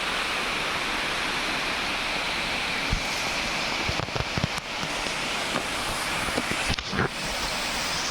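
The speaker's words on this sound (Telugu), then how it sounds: "జలపాతం కనిపిస్తుంది" Waterfall at the Siddha Ramappa pond in the Srisailam temple area, a steady broadband roar of falling water with a few brief louder splashes and knocks near the middle, with no speech heard.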